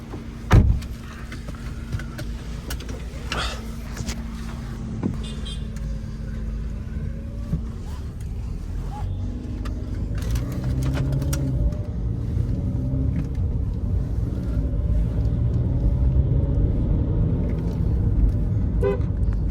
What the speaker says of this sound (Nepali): ल let's go for test drive फर्स्टमा